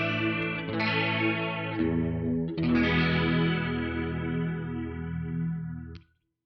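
Clean electric guitar chords played back through a chorus effect insert in Cubasis 3, shimmering sustained notes with a second strum midway, ringing out before stopping abruptly near the end.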